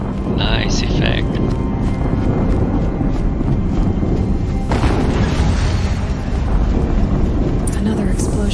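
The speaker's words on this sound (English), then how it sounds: "Another explosion." Deep booming explosion from the video game Horizon Zero Dawn, heavy and loud, rolling over continuous low rumble with a brief sharp burst partway through and speech-like sounds throughout.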